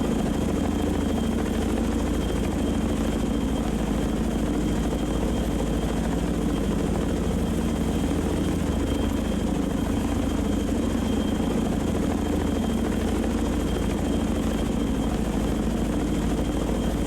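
Helicopter launching in the naval game Sea Power, a continuous, steady rotor-and-engine drone that stays even throughout with no talk.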